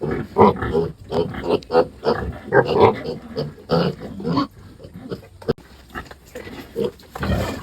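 Piglets being handled for vitamins and iron on a pig farm squeal and grunt in repeated loud bursts, close by, with a few quieter pauses between outcries.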